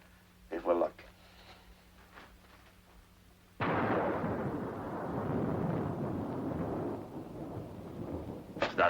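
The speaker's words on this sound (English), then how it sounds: "Is that real thunder?" In a war drama scene, a deep rolling thunderclap suddenly swells and rumbles loudly for several seconds before slowly fading, with brief speech before it.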